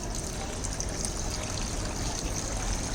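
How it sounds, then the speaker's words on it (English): Water trickles steadily out of small holes drilled along a PVC pipe in a homemade plant irrigator. The splash and dribble stays soft and continuous, close by, with no voices. "Through these holes, water is coming out."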